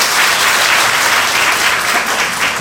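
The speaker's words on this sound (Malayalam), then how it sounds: "വിശ്വസിക്കുന്നവർ കൈയടിക്കുക" A festival crowd at the Cherukol Pooram gathering claps in a sustained, dense burst of applause that stays loud and even throughout, with no voices rising above it.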